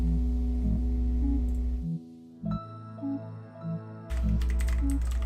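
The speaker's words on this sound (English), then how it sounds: "I apologize if my keyboard comes through." Computer keyboard typing at a desk, a few soft scattered keystrokes sitting under a steady, loud droning tone with shifting pitches, the clicks faint and irregular rather than a fast run.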